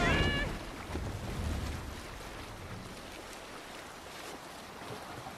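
A sailing ship moves across open sea in the video game Assassin's Creed Valhalla, with a steady rush of wind and water and a brief voice at the start.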